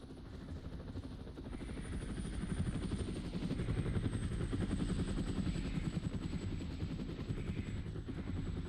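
A military helicopter in the game Arma: Resistance swells from a quieter approach into a loud, steady thrumming rotor drone overhead, heard alone without speech.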